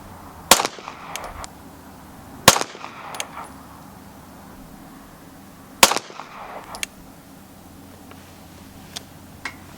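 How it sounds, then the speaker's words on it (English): Three sharp gunshots from a Sig 320 X5 pistol firing Freedom Munitions 135 grain remanufactured plated rounds at a range, spaced unevenly with loud cracks and short echoing tails over a quiet background. "that was 3 shots with the Freedom Munition remans"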